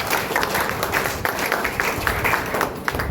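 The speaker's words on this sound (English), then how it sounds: "Please clap for him." A packed hall applauds the event coordinator at a university gathering, a continuous, busy patter of many hands clapping close and loud throughout.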